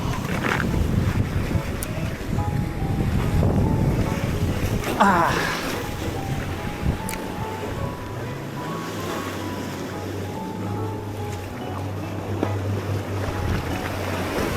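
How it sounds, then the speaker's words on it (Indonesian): Strong wind gusting over open sea on a salmon fishing boat trip, loud buffeting rumble and wind noise against the microphone with waves and a droning boat engine beneath, continuous throughout. "Sialan, anginnya parah kali tapi jauh"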